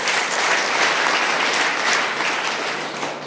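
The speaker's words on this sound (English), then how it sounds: "A big round of applause for them also." Sustained applause from a large crowd, dense and steady throughout, tapering slightly toward the end.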